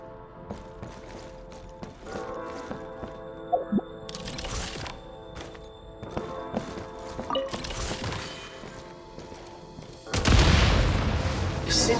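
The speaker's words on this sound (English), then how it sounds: "Shoot the explosives to detonate them and clear the path." Explosives detonate in the video game Genshin Impact: dull booms and cracks sound over steady game music, ending in one loud, close blast.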